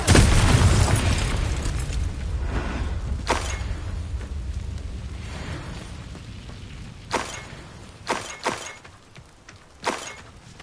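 Confringo blasting curses explode in a Hogwarts video game battle: a heavy boom opens and slowly rumbles away, then several sharp, loud blasts crack out one after another, some in quick pairs.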